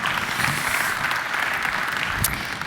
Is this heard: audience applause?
yes